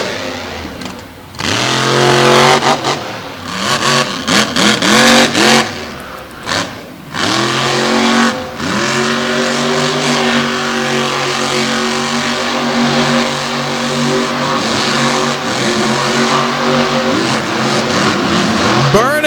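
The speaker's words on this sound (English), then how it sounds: "Burning some rubber back there and then right to the motorhome." A monster truck at a night motorsport show revs its engine hard, the roar rising and falling in long sustained surges and steady pitch sweeps as tires burn rubber, loud and continuous under crowd and announcer noise.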